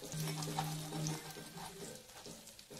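Fish fries crisp in a pan, giving a soft, steady sizzle and crackle close by, fairly quiet, with faint kitchen noise around it.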